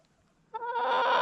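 After a brief quiet moment, a chicken breaks into a loud, nasal squawking call up close, continuing to the end.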